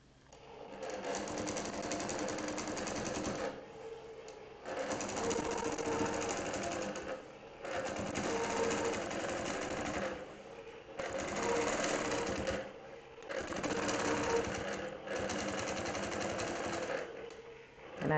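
A longarm sewing machine stitches quilting lines in bursts of a few seconds each, its fast needle chatter steady and close, with short quiet pauses between runs.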